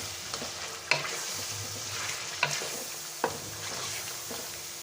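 A garlic, ginger and green chili paste sizzles steadily in a pan for chicken karahi, with a few sharp clinks and scrapes as it is stirred and no talk.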